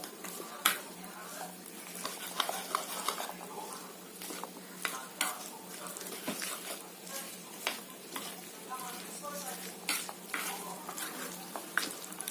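Vegetable omelette batter is stirred and mixed in a bowl, producing a rapid run of close, uneven scraping and tapping strokes with brief pauses between bursts.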